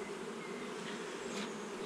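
Honey bees buzz in a dense, steady drone around an opened hive during an early spring inspection on 21 March 2022, close and continuous, with no voices.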